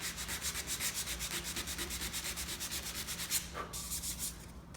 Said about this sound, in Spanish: cojo lija, estoy en 240 ahora